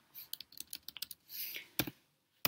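Sharp, close clicks from a computer mouse while working on a Robot Framework alert-handling test, several quick taps in an uneven run, a brief soft rustle, then two louder isolated clicks.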